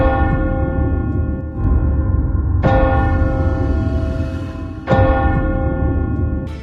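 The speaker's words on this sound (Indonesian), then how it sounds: "kembali pada Jenderal Shen Qiang, tiba-tiba lonceng kerajaan berbunyi beberapa kali" A large palace bell tolls three times, each strike ringing out loudly and decaying slowly before the next.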